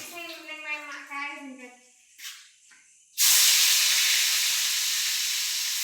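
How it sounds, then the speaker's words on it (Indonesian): Food frying in a pan on a new stove in a home kitchen at night, a loud steady sizzle bursting in suddenly after people talk and continuing alone to the end. "Hari ini digoreng."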